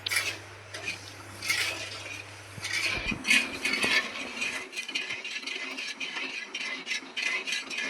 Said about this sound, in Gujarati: અને સાવણી આવે ત્યાં સુધી આને હલાવશું